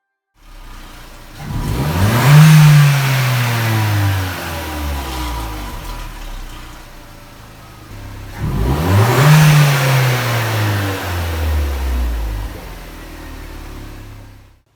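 A Chevy Sonic RS 1.4 turbo engine with its resonator removed revs hard twice, each loud rising roar of exhaust falling away to a rumbling idle, close by with no talking.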